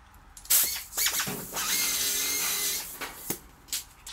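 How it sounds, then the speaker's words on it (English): Power sander working on the roof panel of a 1961 VW split-screen Kombi during restoration, a steady high buzzing whine that runs for about two seconds mid-clip between short bursts of workshop noise. "Sander."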